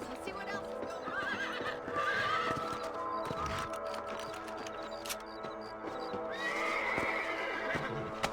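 A horse whinnies twice amid a clatter of hooves in the video game Red Dead Redemption, with faint voices in the background.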